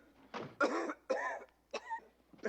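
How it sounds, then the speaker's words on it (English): A man coughs in several harsh, separate bursts spaced over a couple of seconds, close and fairly loud, with the rasp of a persistent cough and no talk. "this damn cough is getting to me"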